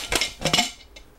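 Crockery, pots and cutlery clink and clatter a few times, close and bright, as items are handled in a busy crockery shop in a Peshawar market, with no talk.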